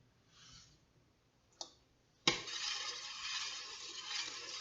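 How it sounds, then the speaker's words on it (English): A scoop of borax dropped into a pot, a faint early rustle and a small click, then a sharp tap followed by a steady hissing pour that continues to the end. "you can add in another scoop"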